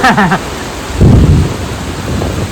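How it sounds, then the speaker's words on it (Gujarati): Heavy monsoon rain pours continuously during a storm in Patan, with a deep rumble of thunder swelling for about half a second; a voice is briefly heard at the start over the downpour. "અત્યારે એ રીતે જ વરસાદ પડી રહ્યો છે."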